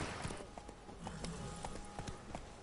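Roach, Geralt's horse in The Witcher 3: Wild Hunt, gallops with steady rhythmic hoofbeats against a dense, noisy game background. The hooves are fairly quiet and are partly masked by the ambient sound.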